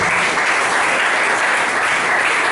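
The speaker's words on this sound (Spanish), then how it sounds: "denle un aplauso a ese Dios." A church congregation breaks into sustained applause for God during a Spanish-language sermon, dense loud clapping filling the whole stretch without pause and no speech over it.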